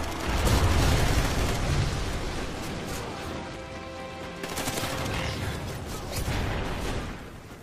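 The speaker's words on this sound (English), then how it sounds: "Friendly Trinity rocket inbound." A Trinity rocket strike explodes in a video game, with rumbling blasts and crackling bursts that roll on for several seconds, loud and without talk.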